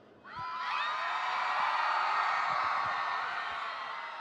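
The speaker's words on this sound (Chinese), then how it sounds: "再让我听一下全场所有人的尖叫声" A concert crowd at a Taiwanese pop show screams and cheers loudly in one sustained roar that swells up quickly and holds for about four seconds, with no talking over it.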